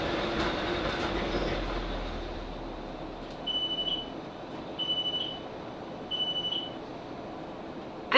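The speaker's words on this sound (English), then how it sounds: "This train is now approaching Ashford." A South Western Railway Class 458 electric train runs on rails with a steady onboard rumble, with several short electronic beeps repeating over the constant interior noise and no talking.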